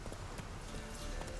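Horse hooves clip-clop steadily across the ground in The Witcher 3, a quick, even rhythm of close, clear hoofbeats from a riding mount, heard alone without speech.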